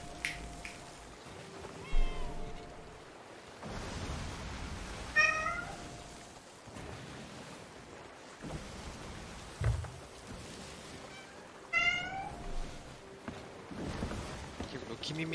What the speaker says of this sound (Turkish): Kimi miyavlıyor, buradakiler miyavlıyor, hepsi mi miyavlıyor?